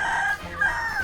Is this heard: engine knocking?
no